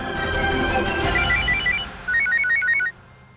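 A telephone rings indoors in a family home, a loud electronic ringtone of repeated high trilling bursts that stops and then returns for a second burst before falling silent.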